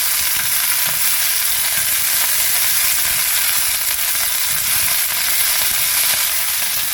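Pepper leaves stir-fry with sliced garlic in a pan, a loud, dense, continuous hiss of frying with faint stirring underneath, close and unbroken, no voices.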